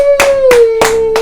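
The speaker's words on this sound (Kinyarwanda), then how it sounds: "reka tumuha amashyi bucura" Four loud, evenly spaced hand claps ring out close by in a drama scene, each sharp burst falling over a steady sustained tone.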